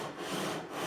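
Close, steady rasping of 400-grit sandpaper on a sanding beam being stroked along the frets of a Fender Custom Shop Stratocaster, a continuous scrubbing rub with no pauses.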